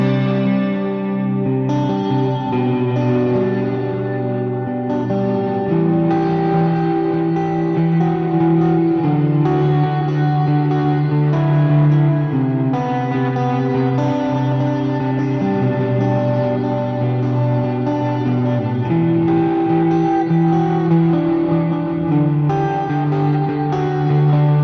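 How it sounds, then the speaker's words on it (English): Sustained electric guitar chords through a Line 6 Helix with Memory Man-style delay and Glitz reverb, echoing repeats trailing each note in a smooth, ambient swell. "I think the delay is a memory man style, much like the El Capistan on David's board"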